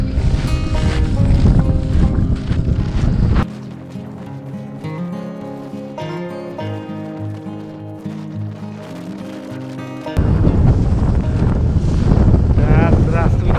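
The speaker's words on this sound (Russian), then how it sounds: "Ветер что-то опять." Heavy wind buffets the microphone on open ice during winter fishing for burbot and ruffe, a loud roar at the start and end with a quieter tonal stretch between.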